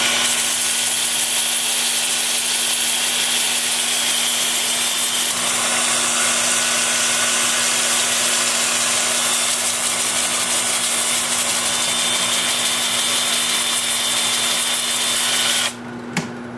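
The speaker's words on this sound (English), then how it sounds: "I'll switch to my 2-inch sanding disc, as I said, starting with 80 grit." Continuous loud abrasive whirring of a 2-inch 80-grit sanding disc against a wooden vase spinning in reverse on a lathe at about 350 rpm, steady throughout with a constant motor hum, stopping abruptly near the end.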